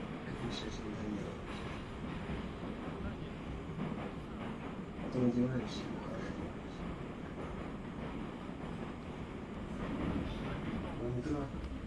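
A metro train rides with a steady low rumble and rattling under a man's calm speech, with a brief louder clank partway through.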